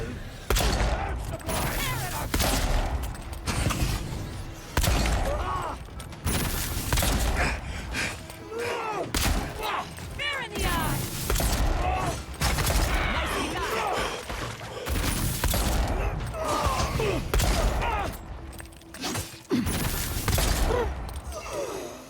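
During a combat fight in Avowed, loud, chaotic bursts of gunfire and clashing impacts fill about twenty-two seconds, with thuds and crashes mixed in and scattered voices over the fray.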